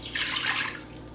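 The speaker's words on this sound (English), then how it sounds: "To the empty insert, I'm gonna just put a cup of water" Water is poured from a cup into an empty stainless Instant Pot insert, making a steady, moderately loud splashing trickle that lasts about a second with no talking.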